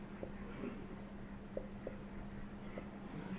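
Chalk or marker taps and scratches on a board, producing faint, sparse strokes over a steady hum in a quiet classroom.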